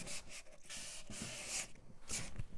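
Repeated strokes of hand sanding on a wooden side table with sandpaper, a dry rasping rub in short bursts with brief pauses, close and fairly quiet.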